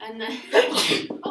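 A single sharp sneeze cuts through nearby talking, followed by a quick word from a voice.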